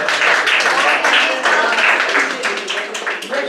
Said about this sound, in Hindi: खुल के बजाइए ताली